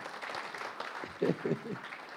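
Church congregation applauding during a sermon, a spread of clapping under and around a speaking voice, with a few louder claps standing out midway.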